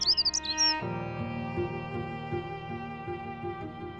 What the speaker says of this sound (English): The ever-present song of the mountain birds, right at the very top, can be heard from a distance.